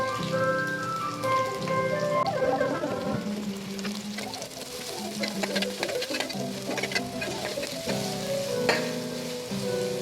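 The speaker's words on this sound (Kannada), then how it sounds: "ಈರುಳ್ಳಿ ಚೆನ್ನಾಗಿ ಫ್ರೈ ಆಗಬೇಕು." Sliced onion sizzles steadily in a hot pan for keema fried rice, a loud continuous hiss with faint scrapes and stirring clatter throughout, no voices.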